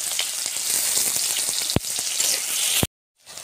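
Onions frying in a pan for a fish curry, a dense, loud, close sizzle with a couple of sharp clicks. It cuts off abruptly into silence near the end.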